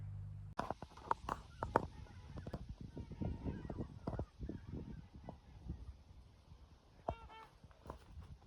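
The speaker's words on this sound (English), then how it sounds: "a whole flock of geese just flew by, and man, were they loud" A flock of geese honks as it flies past outdoors at dusk, giving scattered, irregular calls that sound somewhat distant and fairly faint over light background noise.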